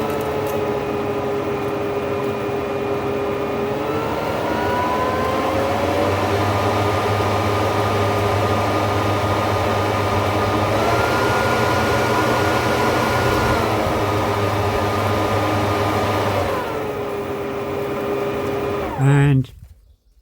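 A Stihl SHA 140 battery leaf vacuum shredder runs with a loud, steady whirring roar that rises and falls as the variable trigger is worked, then cuts off abruptly at the end.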